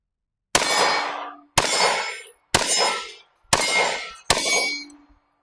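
A Canik Mete MC9 pistol fitted with a DPM Systems recoil spring fires 115 grain full metal jacket rounds at steel targets. Five evenly spaced sharp reports each ring out with a metallic clang that decays before the next.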